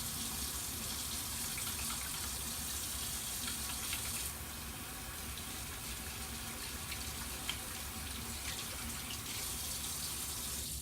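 Tap water runs in a steady, full rush into a kitchen sink while hands are washed during chicken chili preparation, continuous and close with no talk.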